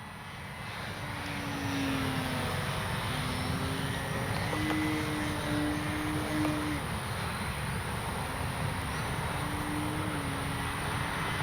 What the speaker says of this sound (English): What a fun little plane